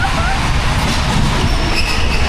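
A fully loaded spinning roller coaster train at a Hyde Park winter fair runs on its rails with a loud, steady, close rumble and rushing roar, with faint high wheel squeal.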